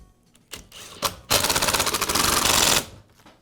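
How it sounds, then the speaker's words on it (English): A power screwdriver drives screws to secure the motor housings of a Makita band saw during a bearing repair, with a couple of short buzzes followed by one longer, loud whirring run that stops abruptly. "And I'll secure the 2 housings with the screws."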